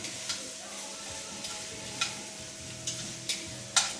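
Beef ribs with carrot and onions saute in a pan, giving a faint, steady sizzle punctuated by a few light scrapes and taps of stirring.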